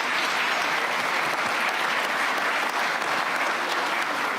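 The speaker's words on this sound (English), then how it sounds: "Let's give a round of applause to a great panel." An audience at the Munich Security Conference applauds a panel discussion, a loud, continuous wash of clapping that holds steady throughout without any speech.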